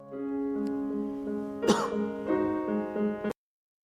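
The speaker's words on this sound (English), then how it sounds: "The cough is real pronounced there." A single sharp cough bursts out midway over a steady, droning tonal background, followed by a few softer bumps before the sound cuts off abruptly.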